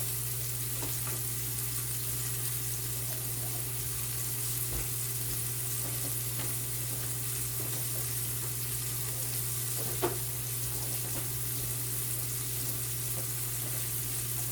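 Italian-style meatballs browning in a pan give off a steady, close sizzle and crackle with a low hum beneath, a few faint clinks along the way and no talking.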